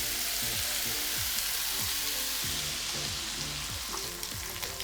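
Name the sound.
salted meat searing in a pan for ragu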